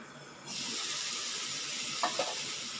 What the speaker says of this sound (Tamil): இப்போ இதை திருப்பி போட்டுலாங்க பாருங்கள் திருப்பி போட்டு வதக்கி